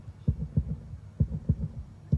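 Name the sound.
heartbeat sound effect played during archery broadcast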